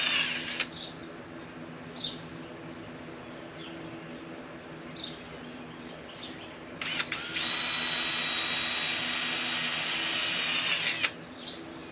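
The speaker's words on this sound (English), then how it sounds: "I'm going to hit that and pre-drill these and start screwing them on" A power drill whirs steadily for several seconds pre-drilling holes under a school bus, with a brief spin-up earlier, while birds chirp faintly in the background outdoors.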